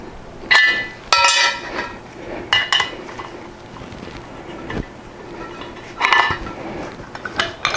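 Metal clinks and clanks from a blind bearing puller as it is cranked tight with a crescent wrench on a motorcycle front wheel, with several sharp ringing knocks in bursts and quieter handling noise between them.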